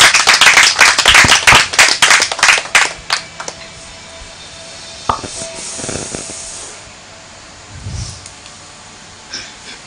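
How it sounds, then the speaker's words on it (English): An audience at a contestant game show applauds, with dense clapping loud at first that thins into scattered claps and fades over several seconds. "Ladies and gentlemen, please, a round of applause for your"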